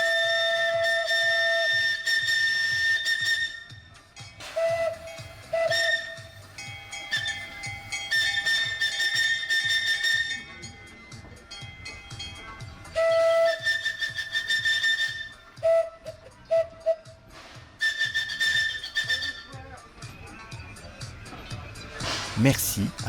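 A steam locomotive of the Transvap heritage railway, at its 50th anniversary, is greeted at the end of the weekend's last run by repeated steam whistle blasts, long sustained tones and short toots with hissing steam between, under voices.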